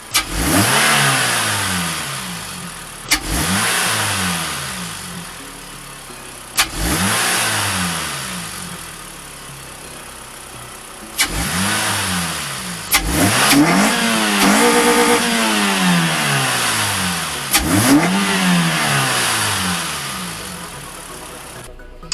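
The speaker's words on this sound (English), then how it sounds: "Now I'm letting the car warm up a little bit, and then I'll give you guys some intake noises" Toyota Celica GT-S engine fitted with a short ram intake, revved repeatedly in bursts roughly every four seconds, each rising and falling back to idle, loud and close with no talking.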